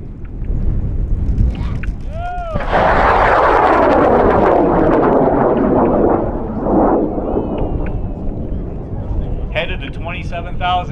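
A high-power model rocket on an N3300 motor launches at Camp Douglas, a loud roaring thrust building up and then fading into the distance while people talk and cheer throughout.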